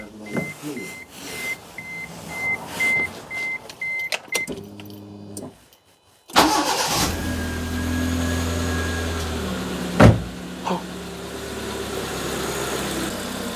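A Proton Wira car engine starts and runs just after an oil change, settling into a steady idle hum with a brief loud bump partway through, following earlier clicks and a pause of near silence.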